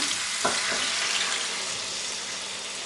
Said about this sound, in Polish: Żeberka cebulą i czosnkiem już mam obsmażone. Oblewam wodą.